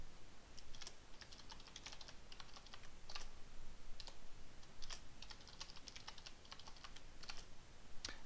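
A password being entered on a computer keyboard during Windows Server 2012 Active Directory setup: quiet, close bursts of rapid key clicks with short pauses between, heard alone without talk.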